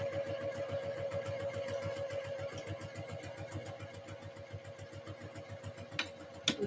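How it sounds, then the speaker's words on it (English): A sewing machine stitches a half-inch seam on a Christmas dress, a fast, even mechanical chatter with a steady whine, close and continuous, ending in a couple of sharp clicks. "sewing up this other seam, 1/2 inch seam allowance."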